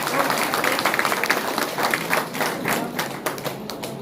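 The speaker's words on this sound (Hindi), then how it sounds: "एक बार अपने लिए जोरदार तालियां" Loud applause from a crowd in a town hall in Banka, Bihar, dense rapid clapping sustained throughout with sharp individual claps standing out, no speech over it.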